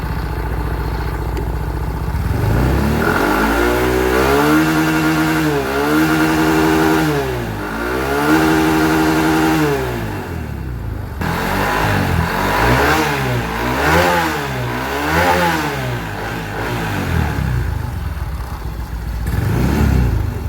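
A Yamaha Mio i 125 scooter engine on its stock ECU revs repeatedly to the rev limiter, loud and close, climbing in pitch, bouncing off the limit, then dropping back between pulls.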